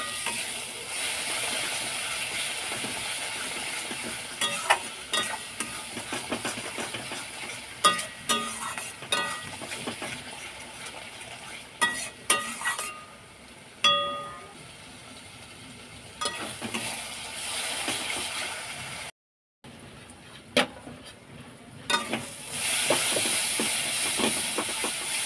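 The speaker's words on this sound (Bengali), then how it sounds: "নাড়াচাড়া করে নিলাম।" Spices with salt, chilli, turmeric, cumin-coriander powder and sugar stirred in a pan for a prawn curry, giving a steady hiss and sizzle with scattered scraping clicks from the spatula, one brief dropout.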